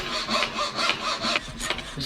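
Handsaw cutting wood at a cabinetmaker's workbench, steady rasping back-and-forth strokes with an even rhythm, close and moderately loud.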